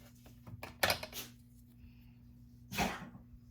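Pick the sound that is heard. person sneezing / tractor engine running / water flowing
person sneezing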